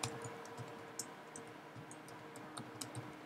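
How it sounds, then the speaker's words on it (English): A computer keyboard is typed on in quick, light clicking keystrokes, faint and fairly steady with a few louder taps, close by in a quiet room without talk. "I'm going to type it here."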